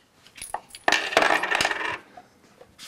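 Old Dutch coins, a guilder and a rijksdaalder, dropping and jingling together in a brief metallic clatter that rings out for about a second, then a few faint clinks follow.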